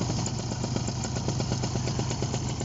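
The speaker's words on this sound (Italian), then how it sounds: "Elica, il motore parte molto bene." Simonini Mini 2 paramotor engine with a Bing 84 float-bowl carburetor, running on a test bench with its propeller: a steady, loud, rapid two-stroke putter holding an even idle, with no talk.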